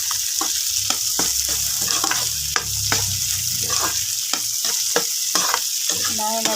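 Pasta sauce with hotdog sizzling hard in a pan, a loud continuous frying hiss broken by regular scraping stirs and spoon clacks, close up with no voice.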